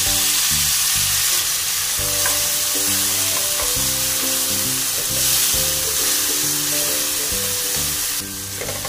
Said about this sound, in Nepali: प्याज अब हल्का हल्का लागु गर्नुहुँदैछ, अब म टमाटर हाल्छु।